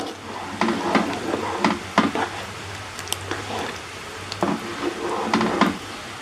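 Sauce seasoned with mushroom stock, pepper and paprika is stirred in a pot for creamy mac and cheese, giving repeated scraping and squishing strokes at a steady rhythm over a low background hum, close by, with no talking.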